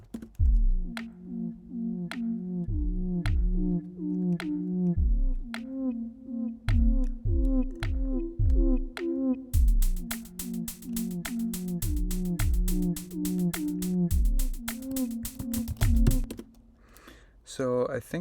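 Synthesized bird calls play in the Beat DJ music app as short chirps and hoots in a steady looping rhythm over a low pulsing beat, then get denser and faster in a rapid repeated pattern.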